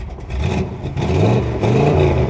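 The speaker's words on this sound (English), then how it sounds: "So, fuel pump primes, starts right up." A 1966 Ford Mustang with a non-stock V8 fires up and settles into a loud, rumbling idle with uneven revving, close by and heard on its own.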